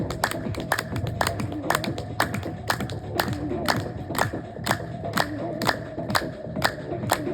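Rhythmic hand clapping at a steady pace during a group yoga session at Anantara, Jabalpur, sharp regular claps repeating roughly every half second over a low background murmur.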